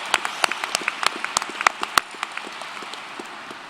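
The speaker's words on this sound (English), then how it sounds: "Let's give all these students a round of applause." Applause at the Massanutten Technical Center 2022 graduation ceremony: a crowd's sparse, scattered clapping with a few louder hand claps standing out, fading gradually over a few seconds.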